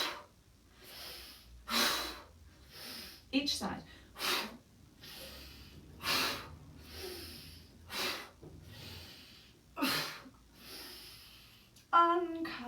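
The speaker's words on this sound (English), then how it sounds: "sharp, hard breath out." During a Pilates rib and upper back mobility exercise, sharp hard breaths out repeat in a regular rhythm, each a short forceful huff, with an instructor speaking quietly between them.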